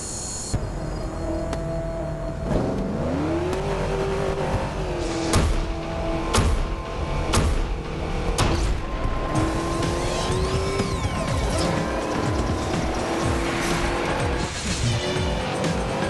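Dodge car engine in the racing game Blur, a steady roar with rising and falling revs as it accelerates and shifts, mixed with other cars and game effects throughout.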